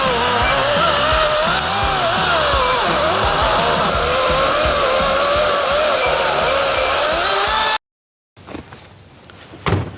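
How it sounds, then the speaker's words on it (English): A 14-inch brushless 40-volt battery chainsaw motor whines steadily at high speed for several seconds, loud and close, then cuts off abruptly, followed by a short rustle. "This is the 14-inch brushless 40-volt lithium-ion smart cut technology chainsaw"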